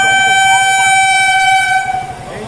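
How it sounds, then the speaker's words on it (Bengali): A train approaching a railway crossing gate sounds a long, loud horn blast over a rapid rhythmic clatter of wheels close by, the horn fading near the end while a voice speaks. "দেখো ট্রেন আসছে"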